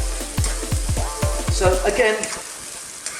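Fresh tomatoes sizzle and fry in a pan for an Italian eggplant parmigiana, with a series of spoon strokes knocking against the pan in quick rhythm before the frying settles into a steady close hiss; a brief word is spoken.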